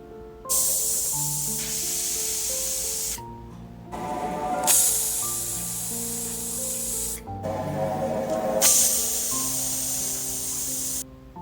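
A pressure cooker holding mutton whistles and vents steam in three long, loud hissing bursts with tonal whistle overtones, separated by short silent pauses, close by with no talk.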